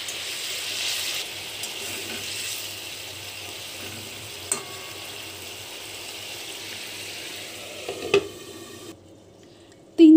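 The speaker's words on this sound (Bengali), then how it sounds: "ফুটে উঠেছে, মাছ আর বেগুন দিয়ে দিচ্ছি।" Fish and eggplant simmering in boiling gravy in a pan: a steady, soft bubbling hiss that carries on for about ten seconds, with a couple of faint clinks near the end.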